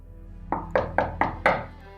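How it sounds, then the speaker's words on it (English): Five sharp knocks on a door sound in a steady, evenly spaced rhythm, each one a hard close rap over a low background hum. "she was woken by a sharp knock on the door"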